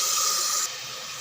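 Masala sizzling in hot oil while frying for Ambur biryani: a brief, soft, steady hiss that drops in level partway through.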